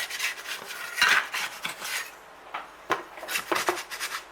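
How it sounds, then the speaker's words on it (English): A metal spatula scrapes around a bacon and rosemary damper in a camp pan, with sharp rasping strokes and a few clinks, irregular and close. "Best thing you can ever use is a metal spatula"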